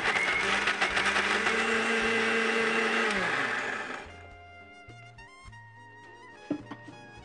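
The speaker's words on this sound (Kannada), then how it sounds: "ಅದರಿಂದ ಇದನ್ನ ಈಗ ಮಿಕ್ಸರ್ಗೆ ಹಾಕ್ಬಿಡ್ತೀನಿ" Steady, loud electric whir from a kitchen mixer grinder blending ingredients for about four seconds before it winds down, followed by quieter kitchen clinks and small knocks.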